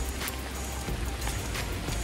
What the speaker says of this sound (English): Oh, it rains so hard